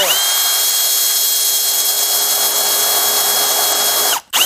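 A power drill chucked onto the shaft end of a Vanguard 23HP gasoline engine turns it with a steady, loud, continuous whine that cuts off abruptly just before the end.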